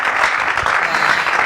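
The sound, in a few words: congregation applauding to glorify God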